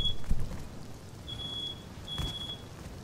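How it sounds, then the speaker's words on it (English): A smoke alarm set off by oven cooking smoke chirps in high, thin beeps, one short and two longer ones, over a low background rumble with a couple of dull knocks. "got a little smoky, the fire alarm went off"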